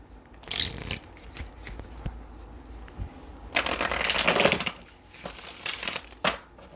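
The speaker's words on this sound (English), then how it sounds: "as I shuffle these cards" Tarot cards are riffled and shuffled close up in several separate bursts, crisp rapid flutters with short pauses between, the loudest burst in the middle, with no talk.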